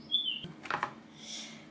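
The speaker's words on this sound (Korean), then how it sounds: "나무 아래 꽃들 사이에 까치가 깍깍깍깍깍 지저귀고 있어요." A magpie call played from a children's sound book comes out as a few short, tinny electronic chirps, faint and brief, with no talk.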